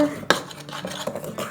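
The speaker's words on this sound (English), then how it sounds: "And give it all a quick stir." A spoon stirs dry ingredients with granulated sugar in a bowl, a quick close bout of gritty scraping with one sharp clink at the start and light rhythmic strokes after it.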